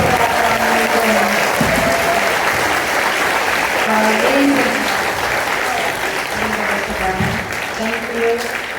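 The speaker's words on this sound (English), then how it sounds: "give a big round of applause" A crowd of fans claps steadily at a book event at a university in Toronto, with Tegan and Sara present; the loud, dense applause fills the whole stretch as cheering voices rise over it.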